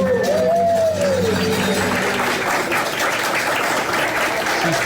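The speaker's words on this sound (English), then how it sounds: "She's clapping and thanking everyone for the song." Dense applause from a bar crowd in Mount Airy, North Carolina fills the clip, steady clapping throughout, with a brief high tone or cheer near the start.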